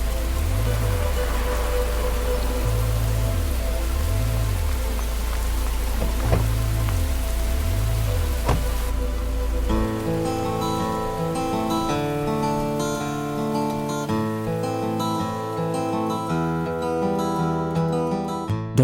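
Steady rain falls amid city lights, a broad wash of hiss running the whole time beneath prominent music with sustained tones and melody.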